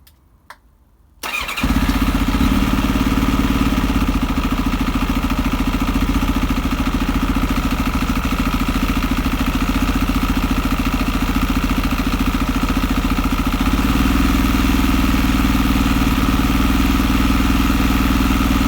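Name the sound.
Kawasaki ZX7R motorcycle engine idling with choke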